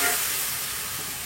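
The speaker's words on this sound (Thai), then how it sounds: "ใส่พริกสดกับกระเทียมก่อนค่ะ ผัดให้หอมแป๊บนึงนะคะ" Fresh chilies and garlic stir-fry in hot oil, giving a brief, steady sizzle that stays close and fairly loud throughout.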